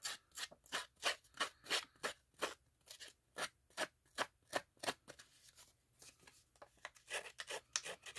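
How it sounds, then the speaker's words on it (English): Repeated crisp snips of scissors cutting paper, a quick steady rhythm of about two cuts per second, close and quiet, no voices. "So what I've got is just a pair of scissors."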